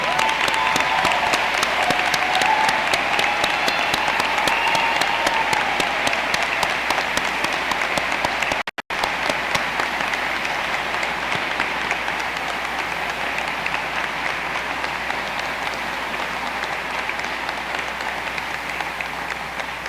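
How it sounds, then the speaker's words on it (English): Sustained, even applause fills a high school graduation hall at West Bend East as military graduates and service members stand, with many hands clapping continuously and close by, broken by a momentary dropout. "Let's give them all a round of applause."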